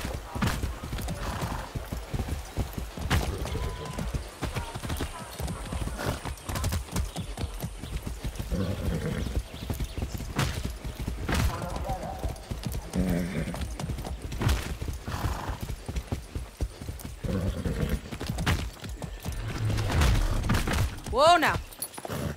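Rhythmic horse hooves clip-clopping steadily throughout in the video game Far Cry 6, with an occasional whinny and a voice talking over the hoofbeats.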